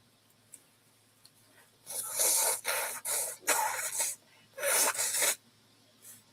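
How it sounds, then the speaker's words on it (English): A person blows their nose in several forceful, breathy bursts of about a second each, the first two short and close together, then longer blasts, close and fairly loud in a quiet room. "I am going to stop my video for a minute and blow my nose."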